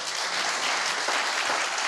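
A church congregation applauds during a sermon, a dense, steady wash of many hands clapping together with no speech over it.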